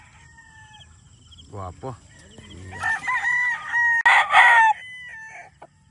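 A gamefowl rooster of the Raptor Sweater line, kept on a gamefowl farm in Quezon, crows loudly at close range in a long strained call, with a few clucks beforehand and someone speaking briefly.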